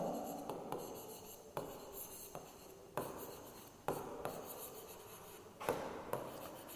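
Chalk or marker strokes on a classroom board during an English grammar lesson: a series of sharp, scratchy taps and short rubbing strokes at an irregular pace, close and moderately quiet, with no voice over them.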